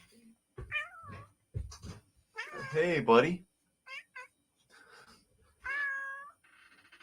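A large 20-pound tuxedo cat meows several times, with drawn-out wavering cries and shorter chirps, close and clear, while a person speaks briefly between the calls.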